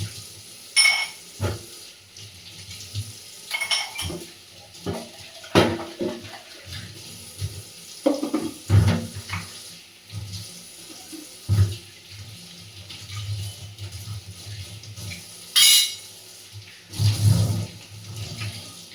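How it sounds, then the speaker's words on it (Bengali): Water runs from a faulty kitchen tap with a cloth tied over it, coming in irregular gushes and splashes with quieter pauses between, close and fairly loud. "কলে একটা কাপড় বেঁধেছি জানো, এমন জল ছিটকে আসা শুরু করেছিল, কলটা আসলে একটু খারাপ হয়েছে"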